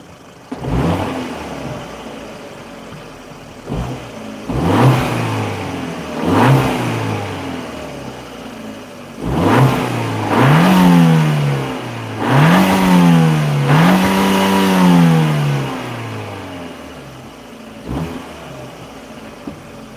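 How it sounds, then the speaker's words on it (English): A Dodge Dart's turbocharged engine revs repeatedly in separate bursts, each rising in pitch and falling back to idle, with a faint whirring turbo-spool whine riding on the louder pulls. "tell me if you can hear the turbo spool"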